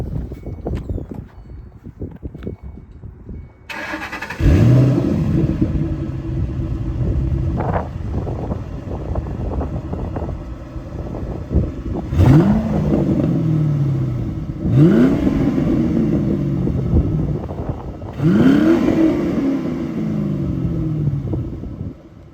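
A stock 2009 Ford Mustang GT with a 3.73 rear gear idles loudly behind the car, then its stock exhaust barks through three sharp revs that rise and fall back to a steady rumbling idle, with no voices.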